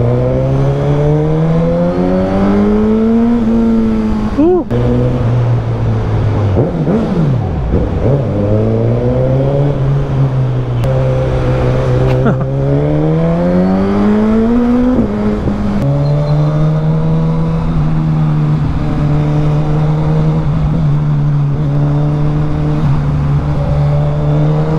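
A 2022 Suzuki GSX-S 1000 naked bike engine revs loudly and up close, climbing and dropping through repeated throttle blips between stretches of steady idle, with no other sounds.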